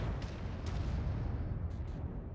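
Enemy mech exploding in the game MechWarrior 5: Mercenaries, a sustained rumbling blast with deep roaring low end and scattered crackling pops, loud and unbroken.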